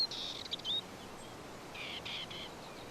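A small bird gives a few short, high chirping phrases outdoors, one burst at the start and another pair shortly after. The calls are faint and brief over a quiet background hiss.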